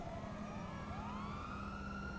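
Several police sirens wail in GTA 5, their pitches sweeping up and down and overlapping at moderate distance over a steady engine-like rumble.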